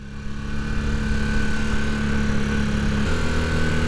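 A Honda CB250 Super Dream motorcycle engine runs steadily after a rebuild, a close, even mid-pitched thrum with a constant tone that shifts slightly near the end, with no voices over it.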